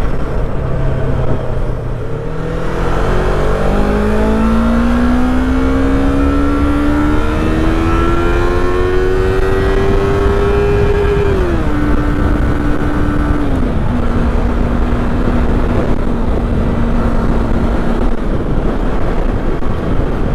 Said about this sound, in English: So I just redlined the Yamaha R3 at gear 2